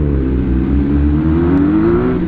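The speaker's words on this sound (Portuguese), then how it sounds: "É a nova CB650F que o cara tá portando." A Honda CB650F motorcycle engine revs and accelerates with a steady, loud, rising drone that lasts throughout, close and unbroken, and no voices are heard.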